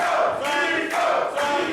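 A wrestling crowd chants in loud, rhythmic swells, with three pulses of massed voices rising and falling in a steady cadence, filling the space with no commentary over it.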